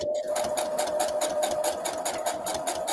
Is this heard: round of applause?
no